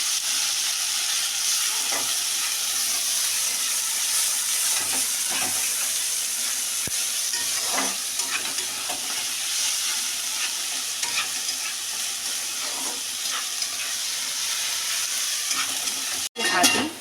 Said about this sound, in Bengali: পেঁয়াজটাকে একটু ভাজা ভাজা করে নিই